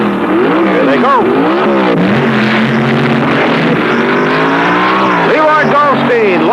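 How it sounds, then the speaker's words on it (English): Nitromethane-fueled funny cars drag racing, a loud, continuous engine roar with sweeping pitch rises and falls as they launch and pull away, with a commentator talking over it. "Remember the funny cars run on fuel, nitromethane, and alcohol."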